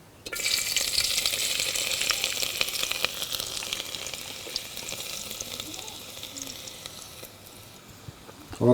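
Oil hisses and sizzles steadily in a pan as cooking begins for a dried bombil fish curry, a loud bright frying crackle that gradually settles and softens.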